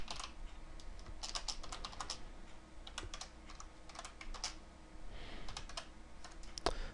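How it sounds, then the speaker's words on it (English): Fast, uneven clicking of keys on a computer keyboard that is acting up, close and fairly quiet, in short bursts with brief pauses. "Can't type today, my keyboard's being kind of funky."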